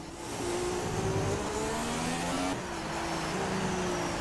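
An F1 car engine at Baku in the F1 2016 racing game screams steadily at high revs, its pitch climbing through gear changes with a brief dip midway, loud and continuous without any voice over it.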